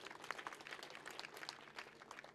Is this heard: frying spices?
no